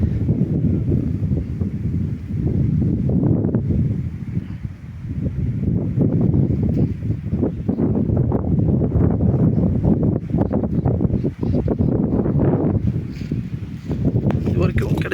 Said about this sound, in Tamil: காற்று அதிகமாக இருக்குது. நிறைய காற்று கிளம்பி